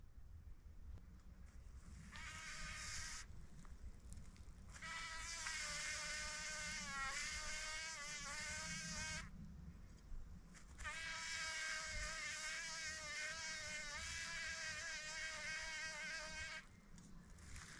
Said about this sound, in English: There's a bee in there.